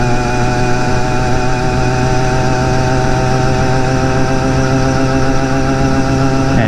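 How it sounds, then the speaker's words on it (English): A BT100 motorized bicycle engine runs at speed during a back-road ride, a loud, steady two-stroke drone with strong harmonic whine and slight wavering pitch, close and continuous with no talk. "That engine's fast."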